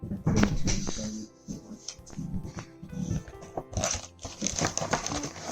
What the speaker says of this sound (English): I'm going to just get another colour of paper.